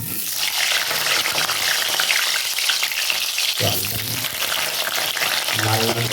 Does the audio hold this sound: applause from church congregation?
no